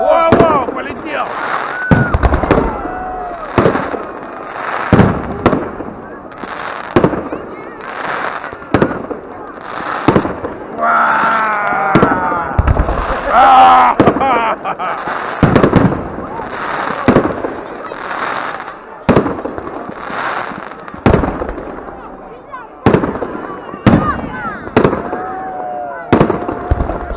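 New Year fireworks display, a long series of loud, sharp bangs and crackling bursts in fairly steady succession, with people talking and exclaiming between the explosions.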